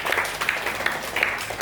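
A church congregation claps together during a Sunday service at GPdI Nafiri Allah in Surabaya, a dense, steady patter of many hands at moderate loudness with a few sharper bursts and no speech over it.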